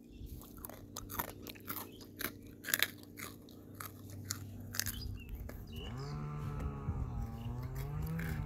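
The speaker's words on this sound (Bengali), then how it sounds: "বন্ধুরা আমরা এখন খাচ্ছি, কি যে পিঠা ক্রিস্পি হচ্ছে।" Crispy homemade pitha being bitten and chewed up close, a run of sharp crunches for several seconds, then a lowing cow rises in the background near the end.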